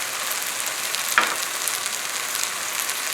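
Sesame seeds sizzling in a pan with bean sprouts and snow peas, a steady close hiss of frying with one brief clink of a utensil, no voices.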